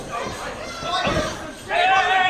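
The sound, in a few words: wrestler slammed face first onto the mat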